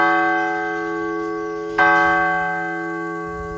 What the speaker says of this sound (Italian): La campana, più è ricca di argento, più il suono ha un prolungato eco.